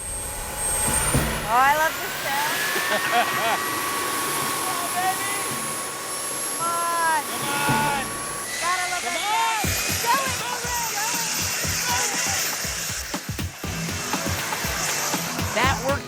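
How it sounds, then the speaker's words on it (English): A jet engine roars steadily to push a sailboat by blowing into its own sail, a loud sustained whine and rush with rising tone, while people talk over it. "this jet engine is gonna give us adequate speed"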